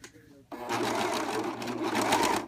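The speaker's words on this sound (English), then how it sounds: "Okay, so now you just start sewing." A serger overlock machine stitching a blind hem on knit fabric starts up after a spoken word and runs as a fast, even, close mechanical whir.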